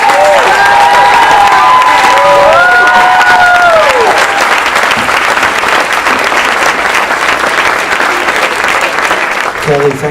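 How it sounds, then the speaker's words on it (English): An audience at a PechaKucha presentation night bursts into loud, sustained applause mixed with cheers and whistles, dense clapping holding steady for about ten seconds, with a few whistled tones near the start. "Let's clap and do it at the levels that Kelly suggests."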